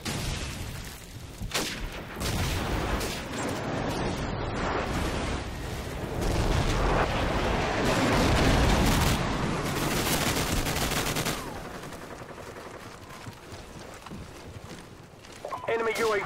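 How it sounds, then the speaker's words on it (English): Explosions and gunfire from a Call of Duty 4 multiplayer match, with a friendly airstrike called in: dense, continuous loud blasts and rattling shots for most of the stretch, easing somewhat toward the end, with brief game voice announcements. "Friendly airstrike on the way."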